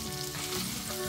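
Chopped onion, ginger and cashews frying in a pan, a brief, even, low-level sizzle and crackle with no voices.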